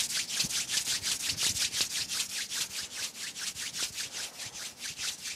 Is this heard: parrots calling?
no